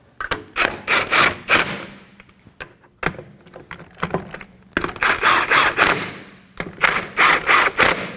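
Lug nuts spun on and snugged against a Kia Sorento wheel, a close, loud run of quick metallic clicks and ratcheting bursts in several clustered rounds with brief pauses between.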